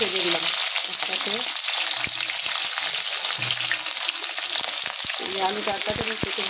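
Cubed potatoes and cumin frying in oil in a wok give a loud, even sizzle throughout, punctuated by occasional scraping and tapping of a stirring utensil, with faint murmured speech in places.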